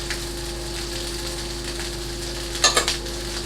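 Vegetables stir-fry in a carbon steel wok outdoors for spicy pineapple fried rice: a soft, even sizzle runs throughout, broken near the end by a couple of quick utensil scrapes and clatters.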